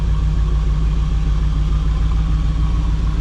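1990 Pontiac Firebird Trans Am GTA WS6 with dual exhaust idling close by, a loud, steady low rumble with an even throb and no voices.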